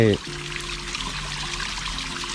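Water pours and trickles steadily in a backyard garden waterfall pond, a continuous splashing stream with a brief tonal sound at the very start.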